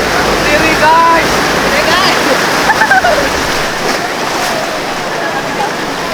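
Big ocean waves breaking and washing on a beach in South Cianjur, a loud, steady roar of surf and splashing with voices talking over it.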